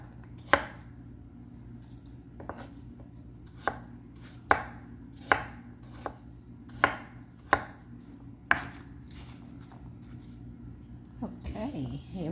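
Apples being chopped on a cutting board for a French apple pie, a slow series of sharp knife knocks spaced a second or two apart, close, with a voice speaking at the end.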